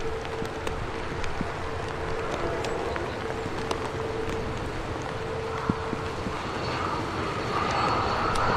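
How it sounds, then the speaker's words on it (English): A TUI airliner touching down at Manchester Airport in wet, windy weather: a steady, broad roar of engines and rushing air, heard from a distance and buffeted by wind noise, growing slightly louder toward the end. "TUI 73 just touched down here."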